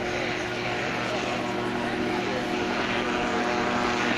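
An Air Total Calidus autogyro flying at an air show, a continuous droning engine and rotor hum with steady tonal whine, while someone narrates over it.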